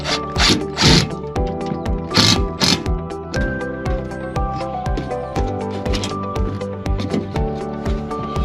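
A ratchet tightens bolts fitted with washers and locking nuts, producing rapid close metallic clicking in repeated bursts, with a few louder clanks between strokes.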